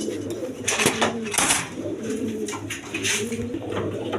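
A pair of Rajgolla pigeons coos repeatedly at close range, steady throaty calls rolling on with a few faint clatters in the background.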